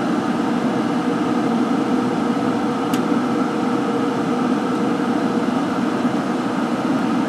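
An AtomStack P7 laser engraver burns a marker-darkened copper one-cent coin at 100 millimeters per minute, giving off a steady, even whirring hum throughout with a single faint tick partway through.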